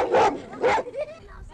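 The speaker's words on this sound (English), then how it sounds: "an old dog who's seen better days guards his master's tent nearby" An old dog guarding a tent at a refugee camp gives two short barks close by, followed by a softer whine, with a narrator's voice heard faintly underneath.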